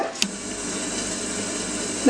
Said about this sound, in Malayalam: ഇപ്പം നന്നായിട്ട് വെള്ളം തിളച്ചിട്ടുണ്ട്